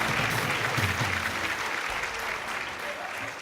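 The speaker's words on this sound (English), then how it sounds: "Round of applause." Quiz-finale audience applauding steadily for a team after a correct answer, a dense even roar of many hands that holds throughout and tapers slightly at the end.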